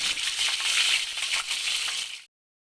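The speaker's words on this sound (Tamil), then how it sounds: "இப்போ நம்ம எடுத்து வச்சுருக்க புதினா ஆட் பண்ணிவிட்டு சோட்டே பண்ணிக்கலாம்" Mint leaves hitting hot oil in a pan give a dense, bright sizzle and crackle that holds steady for about two seconds, then cuts off abruptly into silence.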